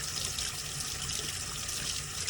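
Water running steadily from a tap as grease is rinsed off a hand, a continuous hissing splash at moderate level with no speech.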